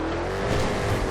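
A Chevy SS mud truck in GTA 5 launches hard into a wheelie, its engine roaring loud and continuous in a brief burst of revving.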